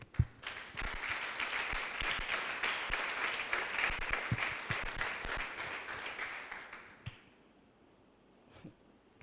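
A church congregation applauds the Lord during an evangelistic sermon, a dense burst of many hands clapping for about seven seconds before fading into a quieter room.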